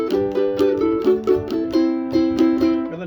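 A ukulele is strummed with a pick in a steady rhythmic pattern, playing the chords of a song, each bright stroke crisp and close with short ringing chords.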